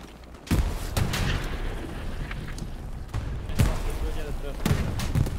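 Tank machine gun firing in Hell Let Loose at Stalingrad, several sharp, loud bursts and booms spaced a second or so apart over a noisy battlefield, with players talking in between.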